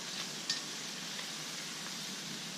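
Chicken frying in a cast iron pan over an outdoor fire pit, a steady, even sizzle with a faint utensil clink early on, no voices.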